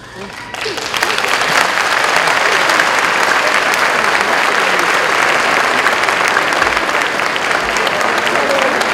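Sustained audience applause at an international education congress, a dense, steady wash of clapping from a large crowd that swells in after a brief quieter start and holds loud throughout.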